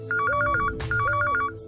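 A phone rings with a melodic electronic ringtone, two short repeated bursts of beeping tones with a brief gap between them, clear and close.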